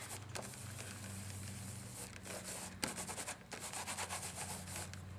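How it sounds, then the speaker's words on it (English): A fingertip rubbing stray glitter off an acetate craft sheet: soft, close, continuous scratchy rubbing strokes with a few sharper brushes, quiet and with no talking. "So I'm just using my finger to wipe those away"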